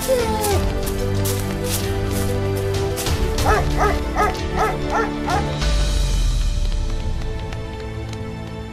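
Cartoon dog from a 3D-animated Vietnamese folk tale, yipping and barking in a short rhythmic burst midway through, laid over a background music score.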